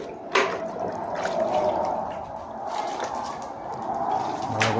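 Spiced food being washed by hand in water, with steady close sloshing and splashing, a few sharper splashes and trickles, and no voices.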